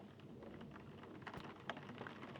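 Steady soft rain falls in a quiet, dark room, a faint continuous patter with a few slightly sharper drops, heard alone with no talking.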